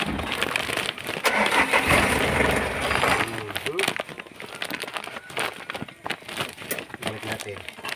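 A Mazda Bongo engine cranks and fires after a repair, a loud rough broadband roar for the first three seconds before it settles into irregular idle clatter and knocks, with people talking over it.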